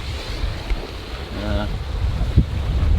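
Southerly wind gusting across a sailboat at anchor off Björkskär, a rough rumbling buffet on the microphone with water lapping, fairly loud and uneven, with a brief voice in the middle.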